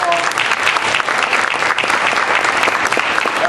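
An audience applauds students at a community gathering, with steady dense clapping throughout that stays loud and fills the room, with no talk over it.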